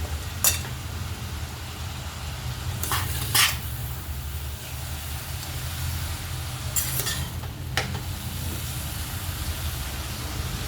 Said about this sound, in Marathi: छानसं हलवून घ्यायचं आहे